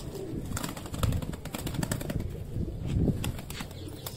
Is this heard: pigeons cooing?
yes